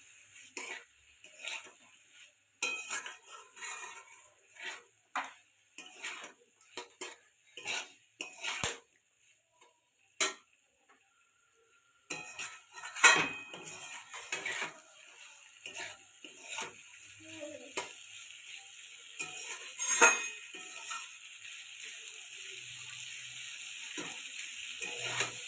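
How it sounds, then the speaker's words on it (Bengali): Fried vegetables are sautéed in a pan for a mung dal dish, with repeated sharp scrapes and clinks of a utensil against the metal over a soft intermittent sizzle that grows steadier toward the end. "দিয়ে দিব সব ভেজে রাখা সবজিগুলো, একটু ভালো করে কষিয়ে নিব।"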